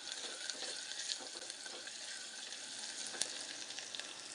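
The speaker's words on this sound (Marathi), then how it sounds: "मिरची चांगली परतू देते" Green chilies and turmeric frying in a pan give off a soft, even sizzle with faint crackles and a few light stirring clicks, heard alone at low volume.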